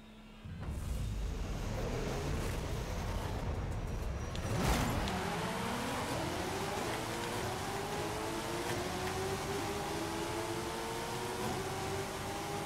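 A Mazda RX-7 in a Forza Horizon one-mile drag race, its engine revving hard and shifting up, with a loud car whooshing past midway and continuous engine drone throughout.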